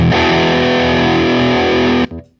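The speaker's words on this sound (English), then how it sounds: "So the drive channel of the Marshall DSL-40 sounds like this." Heavily overdriven electric guitar chord through the drive channel of a Marshall DSL-40 amp rings out loud and sustained for about two seconds, then cuts off abruptly into a brief fading tail.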